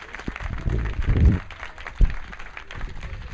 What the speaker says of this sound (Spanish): Le damos un fuerte y caluroso aplauso a Paco Ignacio Taibo II, a su equipo.